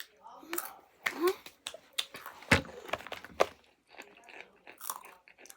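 Someone crunching and chewing spicy Takis rolled tortilla chips up close, loud irregular bites and grinding crunches with brief vocal noises in between.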